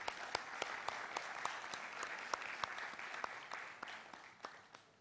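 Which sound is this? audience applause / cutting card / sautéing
audience applause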